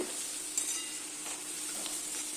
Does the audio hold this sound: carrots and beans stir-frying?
yes